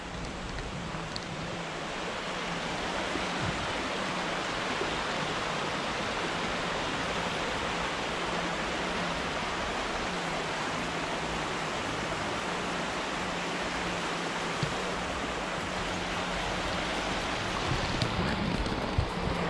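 Steady broadband rush of the Water of Leith river flowing through central Edinburgh, a continuous even wash of water noise throughout with no talk.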